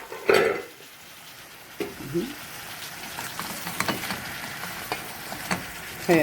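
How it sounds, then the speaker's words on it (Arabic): Meat is flipped over in a hot pan for a vegetable-and-meat oven stew, with a scrape and clatter of utensil against the pan at the start and sizzling frying continuing underneath, punctuated by a few sharper knocks. "تعالوا نقلب اللحمة، نديها تقليبة كده"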